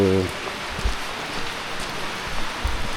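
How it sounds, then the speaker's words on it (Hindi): Steady rain falls in Kashmir, a dense even hiss with scattered drops and a few soft thumps, heard alone and close throughout. "बारिश सुबह से हो रही है"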